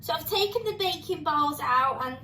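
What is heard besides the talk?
No everyday noise stands out behind the speech.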